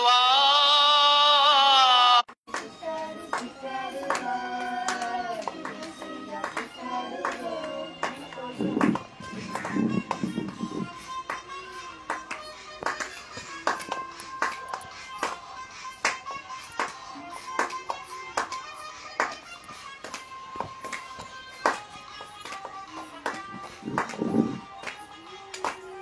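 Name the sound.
congregation clapping hands joyfully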